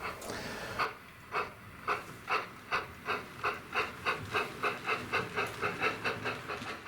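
A train pulling out of a station in a railway video game: close, steady hiss underneath rhythmic clickety-clack pulses that quicken as the train gathers speed, with no talking.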